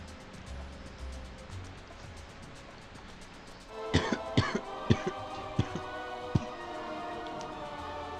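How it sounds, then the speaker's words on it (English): Several sharp, close coughs in a quick irregular burst, following a few seconds of quiet background hiss. "Sorry if I'm coughing a lot"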